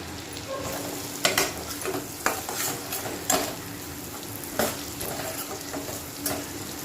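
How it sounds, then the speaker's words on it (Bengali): Chopped onion, tomato, ginger and garlic frying in a pan, a loud continuous sizzle broken by several sharp stirring scrapes at irregular intervals. "পেঁয়াজ টমেটো কুচি আদা কুচি রসুন কুচি দিয়ে এটা ভাজছি"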